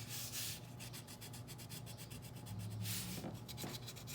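Colored pencil shading on paper, a soft scratchy rubbing in quick back-and-forth strokes, close and quiet with a steady rhythm.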